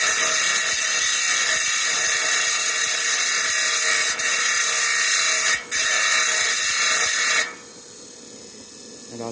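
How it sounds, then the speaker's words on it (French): A thin, flexible diamond blade grinds pudding-stone rock while it is rough-shaped into cabochons, a loud steady high-pitched whine with a couple of brief dips before the cutting stops and a quieter hum remains, close and without talk. "J'utilise une lame mince, souple, avec un bout, des petits bois à diamant."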